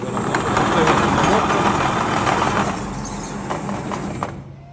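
A Seewer Rondo SFA612 computerised dough sheeter runs with a steady, fairly loud mechanical hum and rumble, rollers working continuously before it winds down and stops near the end.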